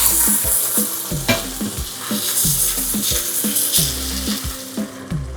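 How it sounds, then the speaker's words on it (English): Jamaican curry chicken back searing in a hot pan, a strong continuous sizzle with repeated stirring scrapes, close up, backed by light music. "I think we've got enough searing on that."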